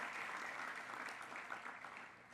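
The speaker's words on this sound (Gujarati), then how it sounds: "એકવાર જોરદાર તાળીઓ આપણે કીર્તન બંદરના મુખ્ય માટે વગાડી." Sustained applause from an audience at a youth religious assembly, dense and steady clapping without pause, moderately distant and even in level throughout.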